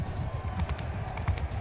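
Horse hooves clip-clop in a Bannerlord battle, a steady trotting rhythm close by under general combat ambience, with no clear neigh standing out.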